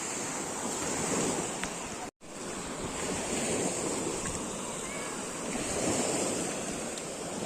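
Small waves of the Tyrrhenian Sea wash steadily onto the beach at Torvaianica, with gusty wind buffeting the microphone and a brief dropout partway through.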